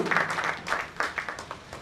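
Audience clapping at a community celebration of social reformers' birth anniversaries in Nehru Nagar, Pimpri, honoring a guest on stage; a brief, moderately quiet patter of scattered hands with uneven bursts, no voices.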